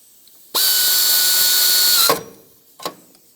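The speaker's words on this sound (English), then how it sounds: "Line up the 3 bolt holes, start in the bolts. Let's snug them up." Power tool snugging the water pump bolts on a 2012-2020 Ford Focus, one sustained loud whirring run of about a second and a half, close by, then a short ratcheting click after a pause.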